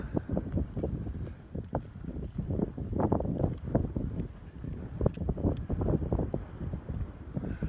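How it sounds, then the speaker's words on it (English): Cold wind gusts outdoors at dusk in the hills between Glen Sligachan and Camasunary Bay, buffeting the microphone in rough, uneven rumbling bursts that stay loud and continuous with no talking. "The wind's gotten up."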